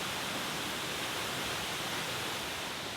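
Jungle waterfall in Bali, a dense, constant roar of falling water, broadband and steady throughout with no voices.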